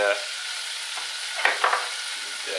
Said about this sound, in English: we want to keep on moving it about until our onions start to go brown